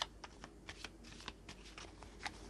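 Tarot cards being shuffled by hand in a quiet room, a soft rapid riffle of papery flicks and slaps in uneven bursts, close and fairly faint, with no talking.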